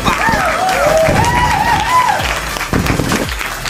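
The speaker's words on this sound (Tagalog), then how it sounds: "Palakpak!" Applause from an audience at a New Year presentation, a steady dense patter of clapping with an excited voice carrying over it, thinning toward the end.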